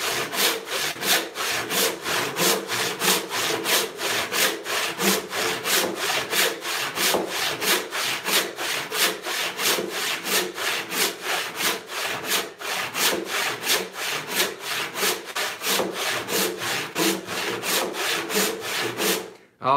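A hand saw resaws an 8-inch-wide walnut board in steady, rhythmic push-and-pull strokes, close and loud. The rasping cuts repeat evenly, roughly two or three a second, without pause until a brief stop at the end.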